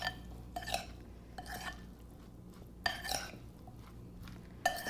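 A spoon stirring nectarine jalapeño relish in a bowl, heard as faint, sparse clinks and scrapes separated by quiet gaps.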